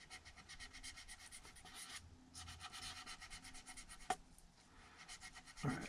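Sandpaper rubs over a polyurethane top coat on a Warmoth Jazzmaster guitar body, making a soft, steady, faint scratching hiss in continuous strokes with a short pause and a small tap near the end.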